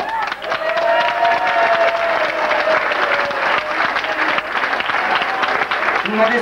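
Crowd at a touring car rally prize-giving applauds loudly and continuously, with a voice speaking over the clapping.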